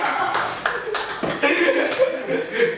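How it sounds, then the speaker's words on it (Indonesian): Scattered hand clapping from a few people in a podcast studio, uneven claps mixed with chuckling and light laughter, close and moderately loud. "Tepuk tangan, Mas."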